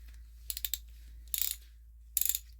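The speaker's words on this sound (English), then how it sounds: "The ratcheting is smooth," A 1/2 inch Craftsman socket ratchet clicks in three short bursts of rapid ratcheting, each run of four or five close clicks separated by brief pauses, heard close up and alone in a quiet room.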